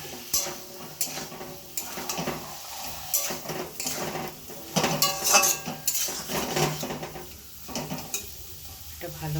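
Mustard-poppy and green chilli paste going into a pan for an aloo potol sajne data curry, followed by steady stirring: spoon scrapes and metal clinks over a soft sizzle, close and continuous.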